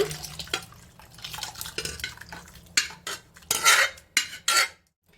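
Cooked ridge gourd tipped into a pot and stirred with a metal spoon, giving irregular scraping clinks and clatters against the pot that grow louder and more distinct toward the end.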